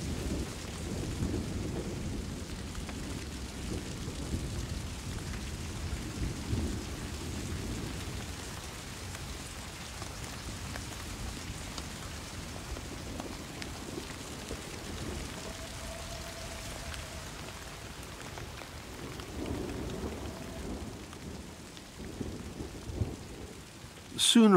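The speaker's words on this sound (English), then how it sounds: "Sooner or later, the rain will stop." Heavy rain pours steadily through a forest while thunder rumbles low and rolling throughout, swelling at times and trailing off, with a louder crack at the very end.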